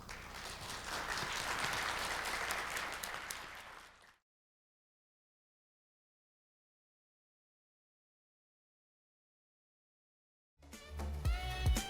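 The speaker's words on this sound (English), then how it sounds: "How about a round of applause for the panelists?" A forum audience applauds the panelists, with a few seconds of moderate clapping that fades into silence. A different, sharper sound enters abruptly near the end.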